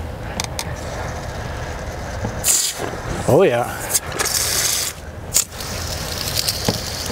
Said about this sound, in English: Let's just do a little test spray here.